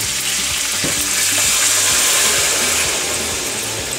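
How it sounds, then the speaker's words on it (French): Loud, steady sizzling and crackling as water is poured into a hot pan while cooking a ragout, a broad hiss running without a break through the whole clip, with faint low knocks of the pan underneath. "On verse de l'eau."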